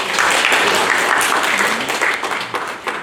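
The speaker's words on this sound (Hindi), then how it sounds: "अस्मिता में कुछ ताली बजाइए।" Steady audience applause from a seminar crowd in Mumbai, dense and sustained clapping filling the room for about three seconds with a slight dip near the end.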